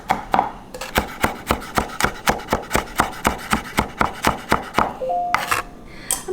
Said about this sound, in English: I'm going to add about 3 or 4 calabrian chilies and just chop those up